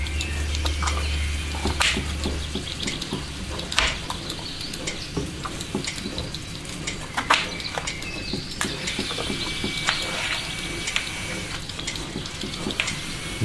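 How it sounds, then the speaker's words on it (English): A dishwasher running in a kitchen, a steady wash of sloshing water with irregular clinks and knocks of dishes, continuous and moderately close with no voices. "First, focus on the sound of the dishwasher."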